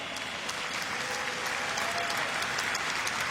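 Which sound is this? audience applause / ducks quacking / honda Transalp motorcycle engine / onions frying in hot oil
audience applause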